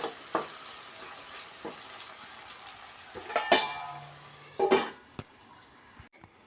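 Green peas fry in a pan for mint rice with a faint, soft sizzle, broken by scattered scrapes and clinks as a spatula stirs them, louder in a short burst near the end.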